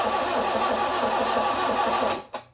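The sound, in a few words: Toyota 86 engine cranking on first start attempt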